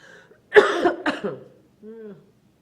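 A single harsh cough bursts out close to the mic at a basketball press conference, followed by a short throaty sound as it trails off, in an otherwise quiet room.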